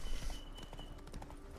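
Roach, a horse in The Witcher 3: Blood and Wine, clip-clops along with soft, uneven hoofbeats under light ambient game sound, moderately close and fairly quiet, with no speech.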